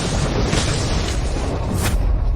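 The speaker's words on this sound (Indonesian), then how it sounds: "Tuan Wang ini, dia mau meledakkan diri?" A cultivator's self-destruct explosion in an animated fantasy drama, a loud continuous booming blast filling the whole moment with rumbling low end and bursts of debris noise, no voices over it.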